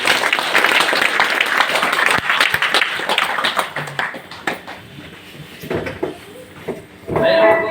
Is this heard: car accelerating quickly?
no